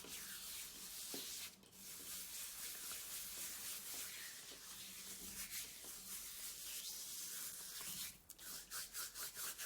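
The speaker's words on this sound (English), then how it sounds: "just take some and rub it in your hands" Gritty homemade hand scrub is rubbed between hands, giving a soft, close, continuous scratchy rasp that turns into quick rhythmic strokes at the end.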